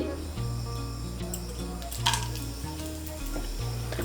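Whole garam masala of three cracked cardamom pods, two cloves and two cinnamon pieces sizzling in hot oil for a Bengali soybean and pointed gourd curry, a steady close hiss with low hum beneath and a brief stir clatter midway.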